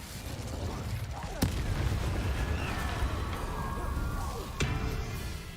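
A fire spell is cast in Hogwarts Legacy, with two sharp bursts of magic over a steady game soundscape and background music.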